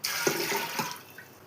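Water poured into a pressure cooker holding chickpeas makes a steady close splashing stream with a few brief gurgles, fading toward the end.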